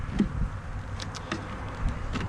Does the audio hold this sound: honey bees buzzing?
yes